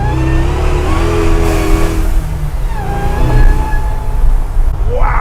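Supercharged Hellcat-swapped Chevy C10 pickup engine rumbling and revving, a steady loud low growl with rising pitch sweeps near the end, no talk over it.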